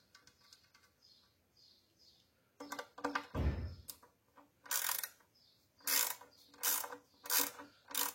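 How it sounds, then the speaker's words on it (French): A hand ratchet clicks in quick bursts while refitting the seal and drain screw on a Volkswagen Touareg V10 gearbox, the rapid pawl clicks close by with short pauses between strokes. "je vais remettre le joint et la vis de purge."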